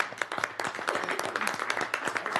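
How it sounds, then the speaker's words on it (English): Applause for county leadership at a House Departments and Agencies subcommittee hearing: a room of people clapping steadily with dense overlapping claps, fairly close and moderately loud, sustained throughout. "let's give them a good round of applause"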